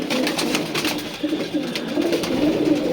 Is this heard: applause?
no